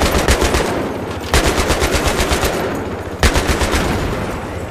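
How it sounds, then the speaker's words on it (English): Bursts of rapid automatic gunfire in the Battlefield 3 video game campaign, loud and close, with three separate volleys of sharp rattling shots and short pauses between them, and no talking. "He was shooting at us."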